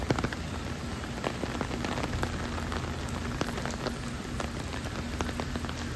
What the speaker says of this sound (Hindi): काफ़ी तेज बारिश